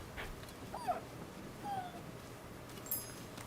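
Faint, soft whimpers and yips from a dog being petted in the Rise of the Ronin game come in a few brief high cries over a quiet background hum.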